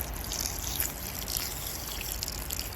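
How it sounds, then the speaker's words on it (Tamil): Water poured onto dry ice, a close, steady trickling and fizzing liquid sound running without pause. "ஸோ தண்ணி ஊற்றுறேன் அப்படியே."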